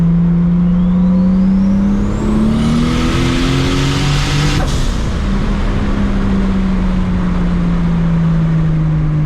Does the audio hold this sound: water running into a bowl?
no